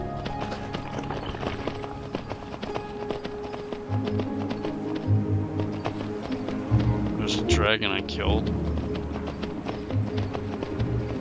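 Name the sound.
horse hooves running, from video game Skyrim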